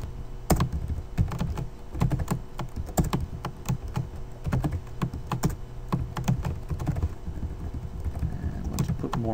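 Fast typing of code on a computer keyboard, with clustered key clicks and heavier thunks from the space or enter key, close and continuous, alone without talk.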